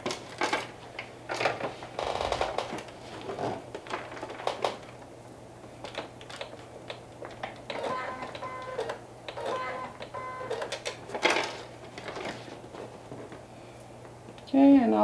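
A sewing machine runs in quick bursts of rapid mechanical stitching while top-stitching lines on a bucket hat, with pauses between runs and a person talking over it at close range.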